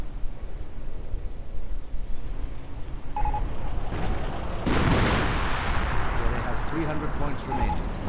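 Artillery shells pound away in a World War II strategy game battle, with heavy blasts booming among game effects while someone commentates over the top.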